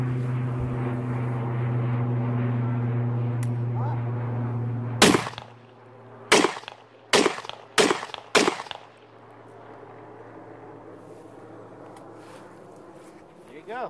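Five sharp, loud SKS rifle shots fired from the shoulder, one followed by four in quick succession, cutting through a steady droning hum, with brief talk before the shots.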